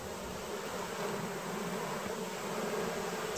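Dense, continuous droning buzz of many honeybees swarming close by around a hive box, steady and even throughout with no voices.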